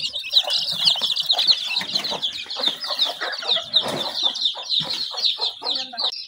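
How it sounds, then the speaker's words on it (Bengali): Chicks peep in a dense, continuous high chatter while a native hen clucks low and intermittently nearby, with some wing flutters mixed in. "এই দেখেন আমার মুরগি বাচ্চা তুলছে"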